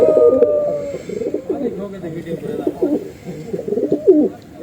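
Fighter pigeons cooing in a pigeon contest, a steady run of low, throaty rolling coos close by that continues without pause across the whole stretch.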